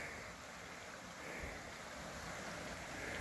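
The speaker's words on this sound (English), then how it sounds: "Nice little brook, the Babbling Brook." Steady rushing flow of a small babbling brook about ten feet across in the Sierra Nevada outdoors, a continuous broadband wash of moving water mixed with light wind, constant and fairly faint, with no talking.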